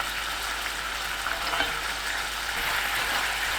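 A seasoning sauce with garlic simmers and sizzles in a pan, giving a dense, even bubbling hiss that holds steady throughout, close by and with no talking.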